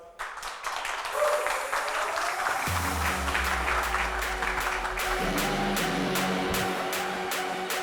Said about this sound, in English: So let's give them a really big round of applause.